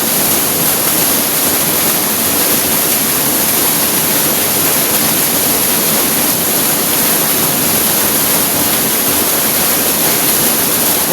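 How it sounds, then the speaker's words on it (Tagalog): A countryside waterfall roars loud and steady with dense, unbroken rushing water filling the whole stretch, no voices present. "Waterfalls."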